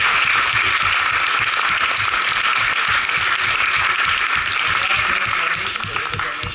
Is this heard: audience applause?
yes